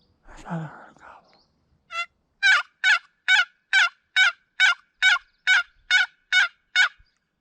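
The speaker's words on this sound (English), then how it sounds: "I thought I heard a distant gobble." A wild turkey gobbles during a late-May spring hunt, a rapid series of about twelve evenly spaced, rattling notes, clear and moderately strong, after a brief rustle of movement at the start.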